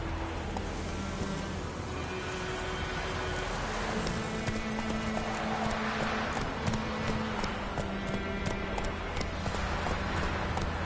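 Hooves of Roach, a horse in The Witcher 3, clip-clop steadily over ground in a galloping rhythm, carried under a constant bed of game ambience and music.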